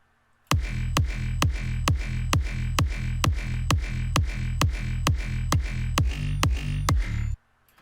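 A processed electronic kick drum with boosted highs and a sharpened attack hits alone in a steady, evenly spaced loop of about fifteen punchy thumps, each with a crisp click on top, then cuts off abruptly.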